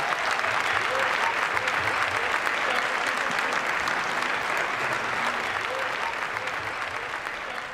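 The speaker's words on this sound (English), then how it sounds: "Would you clap your hands for our Secretary?" Sustained, full applause from a crowd at a historic town meeting in Evanston celebrating reparations, many hands clapping steadily for several seconds with faint voices mixed in, tapering slightly toward the end.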